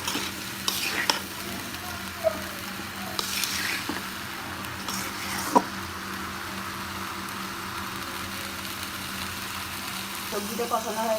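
A pan of dried fish and eggplant curry sizzles gently while a spatula stirs and scrapes through it, with occasional sharper clicks of utensil on metal over a soft, steady frying hiss.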